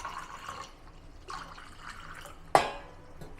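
Cold water splashes and trickles into a glass holding a tablet, a soft, intermittent pouring sound with one sharp clink near the end, heard alone and close.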